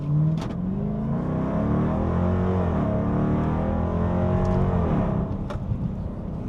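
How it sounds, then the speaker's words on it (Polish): A Dodge Durango with a 5.7-litre V8 roaring through a hard standing-start launch, loud and close, deep engine note climbing as revs rise and shift, continuous throughout with no talking. "Zrobimy start zatrzymany, teraz zaryczymy tutaj troszkę"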